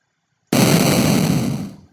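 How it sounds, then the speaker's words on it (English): A single booming video game explosion sound effect bursts in suddenly and loudly, a dense roar that holds for over a second before fading out. "That was an explosion."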